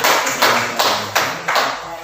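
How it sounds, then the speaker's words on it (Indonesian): A classroom of students applauds a group, with a few loose, fairly loud claps and thumps spaced unevenly over a couple of seconds, mixed with a voice. "Kalau kita tepuk tangan untuk kelompok 3 ya."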